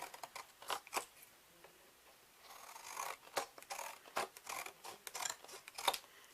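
Scissors cut strips of thin cardboard from a cereal box, a series of crisp, close snips and crunching cuts in an irregular rhythm, fairly quiet with no talk.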